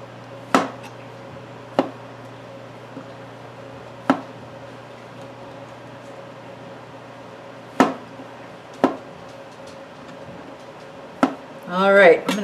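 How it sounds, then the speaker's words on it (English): Sharp knife chops strike a board one at a time with uneven pauses, chopping vegetables for soup, close and distinct over a quiet kitchen hum, followed by a brief rustle at the end. "Should I just chop up this whole package and throw them in?"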